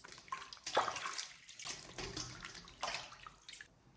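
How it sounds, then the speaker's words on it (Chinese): Pork belly being rinsed in warm water: soft sloshing and splashing with a few brighter surges, faint and close. "用温水把肉先清洗干净"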